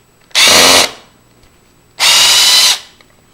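Power drill backing two screws out of a passage lever door latch, two loud whirring bursts of under a second each, separated by a short pause.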